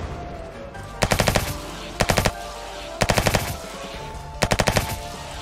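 Automatic gunfire in a zombie shooter video game comes in four short rapid bursts about a second apart, loud and sharp over a steady background hum.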